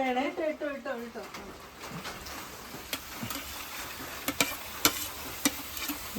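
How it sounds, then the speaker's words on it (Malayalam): Chicken frying in a pan with garlic, ginger, green chili, curry leaves, onion and tomato, giving a soft sizzle with scattered scraping and stirring clicks, while a voice talks briefly at the start over the cooking. "ഇവിടെ കിടന്ന് ചിക്കൻ ഒന്ന് കിടന്ന് വറയട്ടെ"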